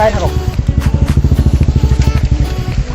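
A motorcycle engine chugs in quick, even pulses close by, holding a steady throbbing rhythm with some voices mixed in.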